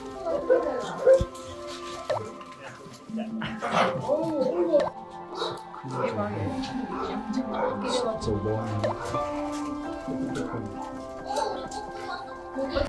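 Rescued Bichon Frise dogs rush out of a kennel at an adoption center, giving scattered yips, whimpers and small barks amid a bustle of people talking.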